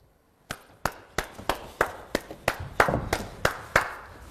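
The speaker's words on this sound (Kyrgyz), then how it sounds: "мырза кол чабуулар менен тосуп алмакчымын" A guest is welcomed with about a dozen sharp, evenly spaced claps in a steady rhythm, fairly close and clear against a quiet background.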